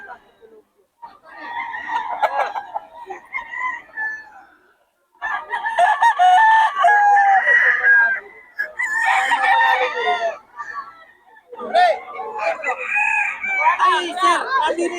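Several roosters crow loudly and repeatedly nearby, long overlapping calls in bursts separated by short pauses, with some clucking between.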